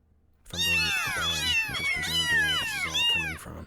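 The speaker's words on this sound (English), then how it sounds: "Sorry about the cats." A group of cats meows continuously in loud, overlapping, pitch-bending cries close at hand, while a person talks over them.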